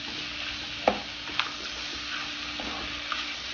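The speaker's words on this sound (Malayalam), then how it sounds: "ഈ ഫ്ലെയിമിന് കൂട്ടി കൊടുക്കുക. നന്നായിട്ട് ഇളക്കുക." Dragon chicken sizzles in a pan over high flame, a constant close hiss broken by a few sharp clinks and scrapes of a spatula as it is stirred; no talk.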